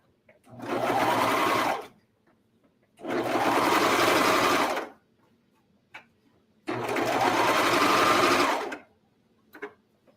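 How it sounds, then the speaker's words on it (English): A serger runs in three loud, sustained bursts of about two seconds each, finishing the bottom edge of pajama pants, with quiet gaps and small clicks between the runs. "we're going to do one more seam on the serger, or one more stitch, which is to finish the bottom of these pants so that this fabric doesn't fray"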